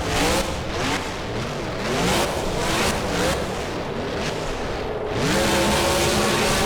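Monster truck driving in the BeamNG video game, a loud sustained engine roar that rises and falls as it revs, with rough noisy texture throughout and no talk.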